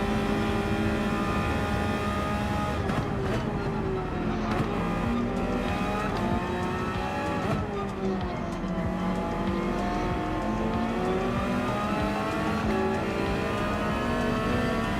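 A Porsche race car in Gran Turismo 7 drones steadily near and loud, its engine pitch rising and falling through gear changes and revs across the lap, with no speech.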